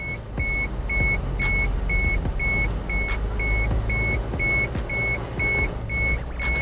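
A 2019 Isuzu MU-X 1.9 diesel SUV on the move, its engine and road noise a steady low drone inside the cabin while a high electronic chime beeps at an even, regular pace.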